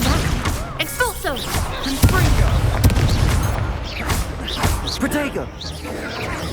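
Expulso blast spell from a wizard duel in Hogwarts Legacy, landing as a loud crashing boom among other thuds and magical whooshes, with voices calling out during the fight.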